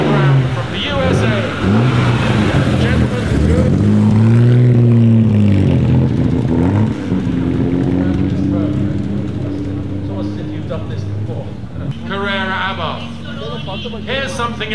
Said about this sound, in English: And Porsche 356B Carrera Abarth GTL of Robert E. Brown from the USA.